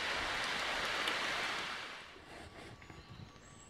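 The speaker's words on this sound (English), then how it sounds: "Started raining." Rain falling at a wilderness survival camp at night, a steady hiss of drops that fades into quieter patter with a few faint tones near the end.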